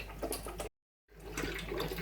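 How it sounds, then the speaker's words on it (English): A decent air pump drawing water out of a guppy fish tank with a steady watery gushing, broken by a brief silent gap before the flow resumes. "it's a pretty decent air pump and it pumps the water out pretty well"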